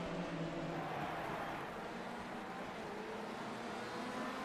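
Lamborghini and BMW race cars in a Daytona racing video game, a steady high-pitched engine drone from the pack holding constant throughout without a break.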